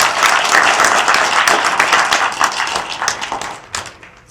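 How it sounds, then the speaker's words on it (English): A breakfast audience claps for Ken Grant, loud crowd applause that holds strong at first, then thins into scattered claps and fades out near the end. "Give Ken Grant a big round of applause"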